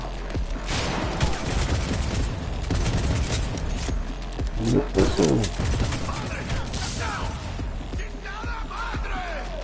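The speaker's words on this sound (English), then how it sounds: "Keep firing!" Gunfire rattles throughout a Cyberpunk video game firefight, with dense automatic bursts and single shots, explosion-like booms and shouted voices in the mix.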